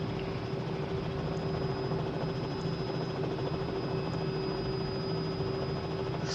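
Steady, continuous helicopter engine and rotor drone from a flight simulator video game, an unchanging loud hum with a constant tonal whine and no speech over it.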